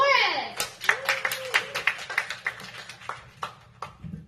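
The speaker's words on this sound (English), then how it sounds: "Please start clapping for Hudson Torres." At a live comedy club, a small crowd claps for an incoming comedian with sparse, distinct hand claps that thin out and fade toward the end, while voices talk over them.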